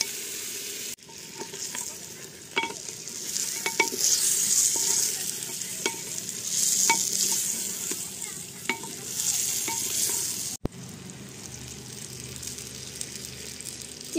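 Desi chicken pieces with small whole potatoes fry and are stirred in a clay pot, a steady loud sizzle broken by repeated sharp scrapes and knocks of the spoon against the pot, then a brief pause before the frying resumes.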